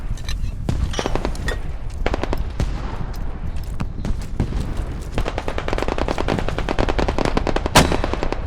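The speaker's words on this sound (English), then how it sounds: "Got machine gun up." A machine gun fires loud, close, rapid bursts of sharp shots that repeat almost without pause throughout, with no talking.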